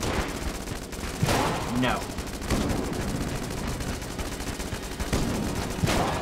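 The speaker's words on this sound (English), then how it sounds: "we'll use the Heck Blaster on the boss" Rapid automatic gunfire from the Heck Blaster in the video game Enter the Gungeon during a boss fight, with bursts of shots running steadily throughout alongside other game sounds.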